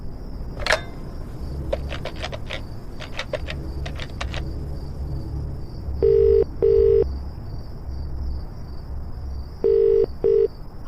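A phone number is keyed into a telephone, giving two pairs of short dual-tone dialing beeps at a steady pace over a low background hum, with no talking.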